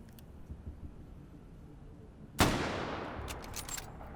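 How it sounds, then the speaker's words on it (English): A single loud, sharp bolt-action sniper rifle shot in a video game bursts out after a quiet stretch, followed by a long decaying echo and some faint clicks. "God, I love this sniper rifle."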